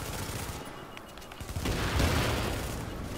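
Sustained automatic gunfire rattles loud and dense in The Division video game, building into a heavier burst midway through with no voices over it.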